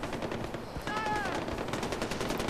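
Rapid automatic gunfire from the Far Cry 4 video game rattles in quick bursts at moderate volume, with a brief metallic ringing tone partway through.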